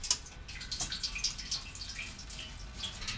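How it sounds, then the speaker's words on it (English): Tap water splashes and trickles into a teapot, a steady bright patter of drips and gurgles running throughout at close range. "I take my teapot and I fill it with water"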